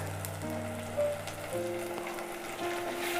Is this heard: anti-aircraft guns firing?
no